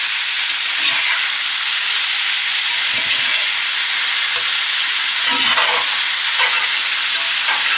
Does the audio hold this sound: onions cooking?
yes